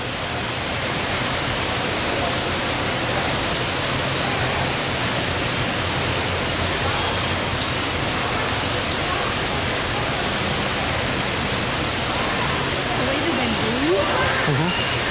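An indoor waterfall in an aquarium's cloud forest exhibit pours with a constant, loud, broadband rush, with faint voices and occasional bird calls over it.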